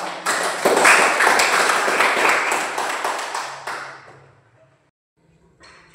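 Classroom audience applauding together, a dense burst of claps that runs several seconds before tapering off into near silence, with faint sounds returning at the end.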